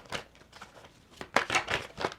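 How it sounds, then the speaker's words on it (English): Tarot cards are shuffled by hand in quick riffles, a run of crisp papery flutters and snaps in separate bursts, close and clear with no talk. "So we're going to do a few more shuffles to see what else wants to pop up."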